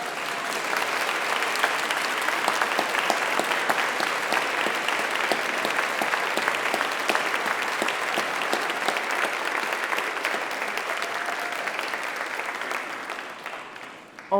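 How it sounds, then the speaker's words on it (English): A graduation ceremony audience gives a big round of applause for the graduates' families: dense, sustained clapping from a large crowd that holds steady for about fourteen seconds, then tapers at the end. "Graduates, give your families a big round of applause"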